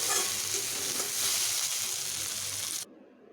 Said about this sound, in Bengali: এবার আমার এই শাকগুলো ভাজা হয়ে গেছে আমি এখন এগুলোকে নামিয়ে নেব